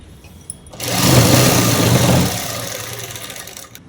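A domestic sewing machine runs a short stitching burst along the edge of a homemade shirt, a steady mechanical whir that starts abruptly, holds for about a second and a half, then eases into a lighter hum before stopping.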